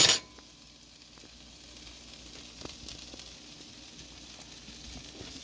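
Fries frying in a pan: a steady, close crackling sizzle with scattered pops, starting after a brief clatter and running continuously without talk.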